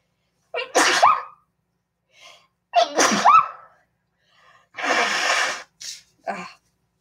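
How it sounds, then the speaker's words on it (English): A series of sneezes with sharp gasping intakes and breathy bursts between them, close and fairly loud, separated by brief silences. "Oh, I gotta sneeze. Excuse me for this."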